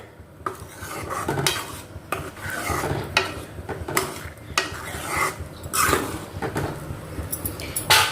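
Close scraping and clattering of a spoon stirring curry in a pan, in repeated strokes with metallic knocks, no voices.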